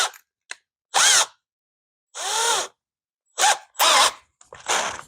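A power drill whirs in several short bursts separated by silences while drilling a hole in metal for a Honda CT70-style minibike chain guard, the motor pitch rising and falling as it spins up and winds down.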